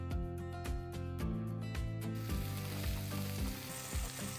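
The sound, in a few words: sautéing sliced onion with cumin seeds and salt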